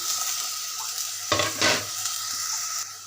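Jackfruit seeds dropped into dried fish frying in hot oil and stirred with a utensil, with a continuous close sizzle and a couple of sharp scraping stirs in the middle.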